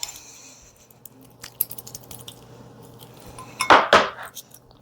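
Avocado is mashed and mixed with pepper powder and salt in a bowl, heard as scattered light scrapes and taps of utensil on dish, ending in two louder, sharper clinks near the close.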